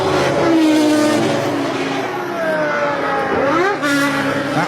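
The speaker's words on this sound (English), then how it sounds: "These cars touching somewhere in the region of 200 miles an hour before braking into Indianapolis" Le Mans prototype race cars, a 1993 Peugeot 905 Evo1 LM and Toyota TS010, brake from around 200 mph into the Indianapolis corner. Loud, whining engines drop in pitch as they slow and downshift, then rise again.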